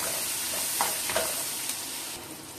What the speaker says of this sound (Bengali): পেঁয়াজটা একটু ভেজে নেব।